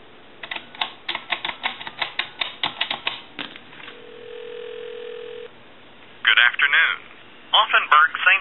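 A pink Princess telephone converted to a regular line dials a time-and-temperature number: a rapid series of rotary-dial clicks, then a steady tone, followed by a recorded voice answering.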